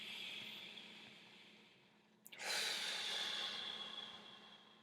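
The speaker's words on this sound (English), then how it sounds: "Literally breathe in and breathe out." A single slow, deep breath, heard as a faint airy hiss that fades, then a sharp intake and a long, sustained exhale, close and quiet with no talking over it.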